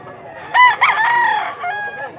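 A rooster crows up close, a strained cock-a-doodle-doo with a short cluck or two trailing off afterward.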